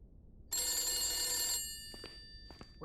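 A telephone bell rings indoors in one sustained metallic burst of about a second, fairly loud and ringing out, followed by a few faint knocks and rustles.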